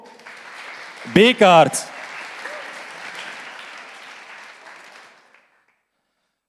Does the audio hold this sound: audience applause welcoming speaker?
yes